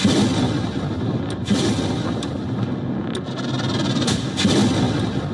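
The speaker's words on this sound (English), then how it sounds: "Watch the moment missiles and drones rained down." A series of sharp, distant missile and drone explosions crack out over a steady background rumble, several booming bursts spaced irregularly across the stretch, during a Russian bombing of Ukraine.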